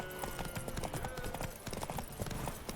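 Roach, Geralt's horse in The Witcher 3, gallops hard, hooves pounding in a quick, steady rhythm for the whole stretch at moderate volume.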